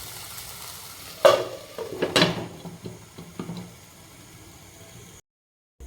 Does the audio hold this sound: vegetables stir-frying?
yes